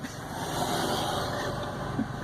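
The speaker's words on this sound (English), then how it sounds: "And it's just accompanied by gear changes." A car engine rumbles steadily and fairly loud throughout, with a constant low drone and faint higher whine, while the driver moves through gear changes.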